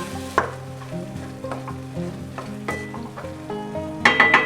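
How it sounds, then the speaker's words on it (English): Half-cooked tomatoes sizzle steadily in a pan for a shakshuka, with a few scraping stir strokes and sharper clinks of the spoon against the pan near the end, no talking. "we give it a nice stir so that they don't stick to the bottom of the pan"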